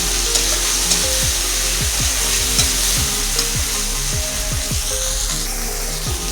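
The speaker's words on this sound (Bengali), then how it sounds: "এটাকে ভেজে নেবো এবারে।" Tomatoes and green chillies fry in oil in a pan, giving a steady, close sizzle that runs throughout, with stirring and some faint tonal whines layered over it.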